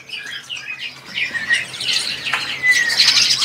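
A busy chorus of small birds, zebra doves, chirps and coos at once, close and overlapping, with no pauses.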